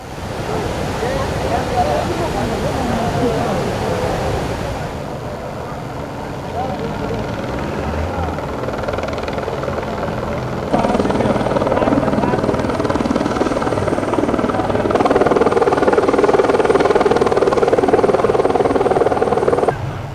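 A Nepali Army rescue helicopter flies over floodwater in Melamchi, its loud, steady rotor roar blending with rushing water for the whole stretch while a news reporter narrates over it.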